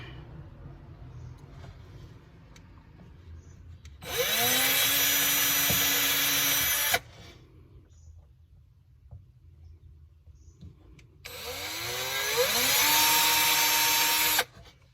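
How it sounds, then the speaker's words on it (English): A power drill whirs through two bursts of a few seconds each, drilling about 1/4 inch into a plywood floor, its pitch rising as it spins up, with a quiet gap between them. "I'm only going to be drilling down about 1/4 inch, maybe slightly more than 1/4"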